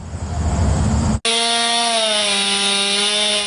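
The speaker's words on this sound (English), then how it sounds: "I have the chainsaw" A chainsaw cuts up storm-fallen branches in a yard in Holt, Michigan: a rough, loud cutting roar, a split-second break, then a steady high engine whine, close by.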